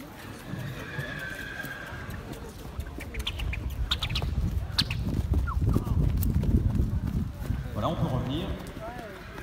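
A horse trotting at a sale event, with rhythmic hoof clip-clops building toward the middle, a whinny heard, and a person talking over it in an outdoor setting.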